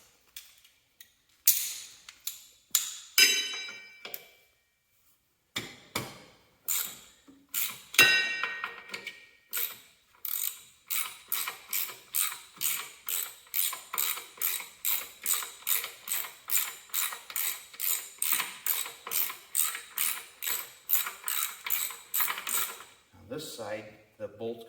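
A ratchet wrench loosens a bolt on a Cub Cadet 782 diesel garden tractor's transmission, with a few scattered clanks first and then a long, steady run of crisp, evenly spaced clicks, close and alone.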